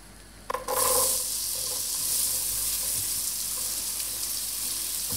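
Shallots dropped into a hot pot for Cullen skink burst into a loud, steady sizzle that begins abruptly and holds as a bright, continuous frying hiss close by.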